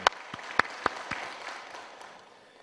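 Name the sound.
church congregation applauding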